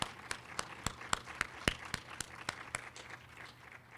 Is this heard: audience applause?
yes